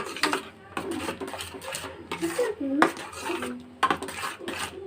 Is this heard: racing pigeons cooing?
no